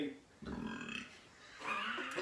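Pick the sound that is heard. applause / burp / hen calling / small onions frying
burp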